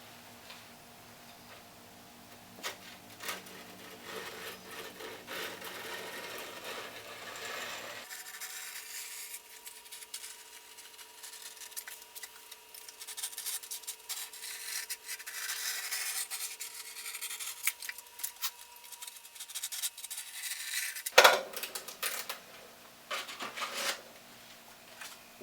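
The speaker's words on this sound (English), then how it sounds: "using a good old X-Acto knife" An X-Acto knife scrapes and slices along skateboard grip tape on a new deck, a close, steady rasping with repeated small ticks and one sharper snap near the end, with no talking.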